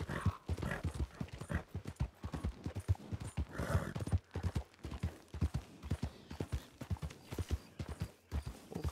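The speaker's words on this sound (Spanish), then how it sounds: "Caballos." Horses walking with a steady run of clip-clopping hooves, repeated rhythmic knocks close by across the whole stretch, with no talking.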